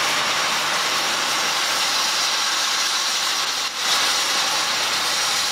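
A restored steam locomotive of the Madrid–Aranjuez Strawberry Train, pulling wooden carriages, gives off a loud, steady hiss and roar of steam that barely dips once near the middle, heard close with no talking.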